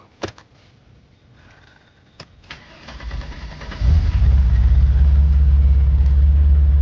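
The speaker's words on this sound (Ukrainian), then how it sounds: "запускаємо цього динозавра на новых свечках" A Mercedes-Benz W124 300CE coupe, fitted with new spark plugs, is started. A few clicks and a rising starter crank lead into the engine catching, followed by a loud, steady low idle rumble.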